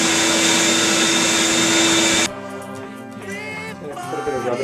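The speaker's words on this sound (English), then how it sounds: "At the end of every step, I vacuum." A vacuum cleaner cleans up after a guitar fret dressing step, a loud steady whine that cuts off abruptly partway through, leaving a quieter room.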